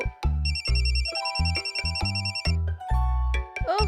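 A cartoon mobile phone rings with a bright electronic ringtone, repeated melodic bursts looping loudly in a regular pattern over low rhythmic beats.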